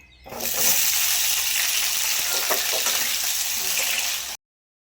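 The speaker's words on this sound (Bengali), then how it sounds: "তেল দিয়ে আলুটা ভেজে নেব" Potatoes frying in hot oil in a wok give a loud, steady sizzle that starts abruptly and holds evenly for about four seconds before cutting off.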